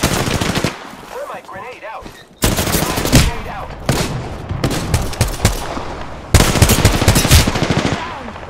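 Rapid automatic gunfire in a video game shooter, loud close bursts that stop and start in clusters with a brief lull, while players talk over the shooting.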